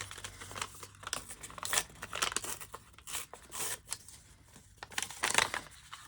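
Torn paper pieces for a journal crinkle and rustle in short bursts, close and fairly quiet, with irregular handling noises and brief pauses between crumples.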